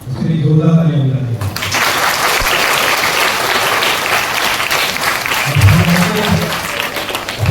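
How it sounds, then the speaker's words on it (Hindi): A congregation at a Karam feast celebration in a Catholic church breaks into loud, sustained applause. The clapping fills the space for several seconds, with a voice speaking briefly at the start and again near the end. "उसके लिए जोरदार तालियां बजाइए।"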